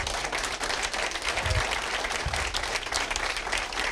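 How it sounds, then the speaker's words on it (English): An audience at a high school business incubator pitch night applauds a student pitch team, with full, continuous clapping filling the room throughout, close and loud. "we are going to give a big round of applause to Saturn"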